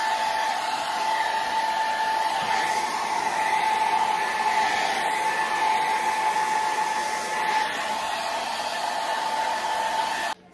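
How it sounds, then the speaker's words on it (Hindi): Hair dryer blowing on hair freshly coloured with black L'Oréal Casting Crème Gloss, a loud, steady whooshing drone that runs unbroken for about ten seconds before cutting off abruptly at the end. "चलो अब हम इसे हेयर ड्रायर की सहायता से सुखा लेते हैं"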